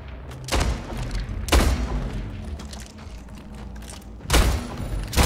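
Gunfire in the Slipgate team deathmatch video game, heavy booming shots in three bursts spaced a few seconds apart over a continuous rumble of game sound.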